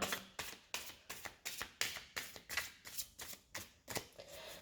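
Close riffling of a card deck being shuffled to clear it, a regular series of about a dozen crisp, evenly spaced bursts, quiet and without talk.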